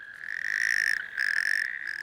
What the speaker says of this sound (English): Male natterjack toads vociferously court the females.